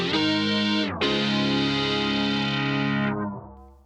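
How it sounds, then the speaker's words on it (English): A Boss SY-1 guitar synthesizer on its square lead patch plays a loud, buzzy sustained synth tone with rich harmonics. It breaks briefly near one second, then holds steady and fades out toward the end. "The square lead sounds a tiny bit different."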